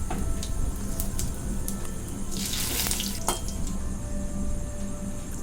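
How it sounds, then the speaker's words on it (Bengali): Cumin, dry chilli and bay leaf hit hot oil for tempering in a home kitchen, giving a steady hiss that swells into a brief, brighter crackling flare midway before settling back. "এবার ওই তেলেই জিরে, শুকনো লঙ্কা, তেজপাতা ফোড়ন দিয়ে দেবো।"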